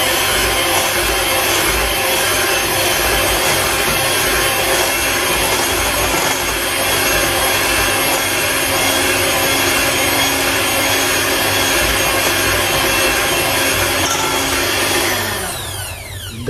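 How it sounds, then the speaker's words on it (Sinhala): A hand mixer beats butter for a stovetop banana cake batter, a loud, steady motor whir with a grinding rub of beaters in the bowl, running without a break for over fifteen seconds before it winds down. "බටර් ටික ගහගෙන ඉවරයි"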